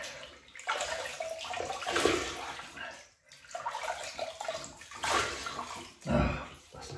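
Water splashes in bursts as hands scoop it onto the face before a shave, a close, wet sloshing sound in several waves with brief pauses between them.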